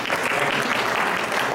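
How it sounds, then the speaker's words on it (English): Steady applause from a crowd at a Bharatanatyam dance program, dense and continuous clapping throughout with no voices standing out. "Let's please give them a big hand and round of applause."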